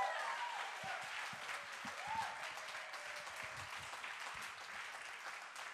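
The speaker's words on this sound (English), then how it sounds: "Can we have another round of applause for Samina, please?" An audience at a poetry event applauds steadily with dense, sustained clapping throughout, heard from within the room, while a voice briefly rises over it.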